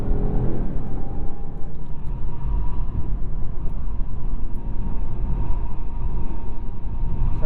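A 2021 Jaguar XF with an automatic transmission drives in dynamic mode, its engine and road noise forming a constant loud, rumbling drone heard from inside the cabin, with no voices present.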